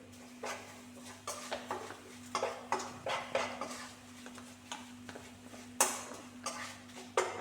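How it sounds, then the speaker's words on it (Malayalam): Spices with coriander powder and turmeric fry in oil for a masala curry while a spoon stirs the pan, giving a series of quick, close scraping and clinking strokes over a steady low hum. "അതെല്ലാം ഒന്ന് എണ്ണയിൽ മൂപ്പിച്ചെടുക്കുന്നുണ്ട്"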